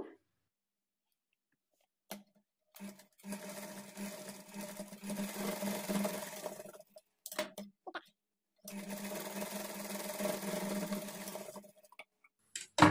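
Sewing machine stitching the shoulder joint of a child's lehenga blouse with a half-inch margin, running in two long steady bursts with short clicky starts and a pause between, close and moderately loud, no talking.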